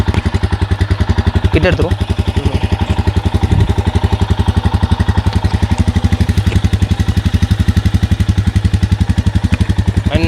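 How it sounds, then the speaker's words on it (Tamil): A Royal Enfield Himalayan BS6 single-cylinder motorcycle idles steadily just after being started, its exhaust thumping in an even, close-up rhythm while someone talks briefly over it. "இப்போ நம்ம எக்ஸாஸ்டோட கிராங்கிங் சவுண்ட் என்னென்னு பார்த்துடலாம்."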